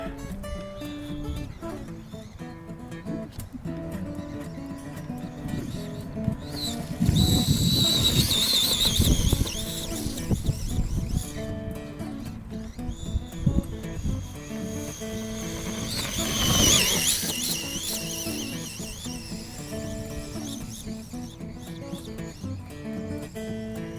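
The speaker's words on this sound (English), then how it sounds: "That slipper is just screaming." An RC car's slipper clutch screams in two loud, high-pitched bursts while the car runs on paddle tires through deep dirt ruts, with a steady motor whine underneath.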